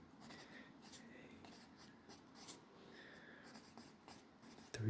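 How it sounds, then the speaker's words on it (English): A pen scratches coordinates onto paper in short close strokes with brief pauses, faint and soft, while a quiet voice murmurs now and then. "So might as well just write that down."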